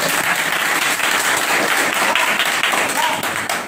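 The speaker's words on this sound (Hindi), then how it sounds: "और एक बार ताली बजाइए अपने लोगों के लिए, खुद के लिए" Steady, dense clapping from a group of trainees in an electronics repair class, a continuous moderate patter with no pauses and no speech.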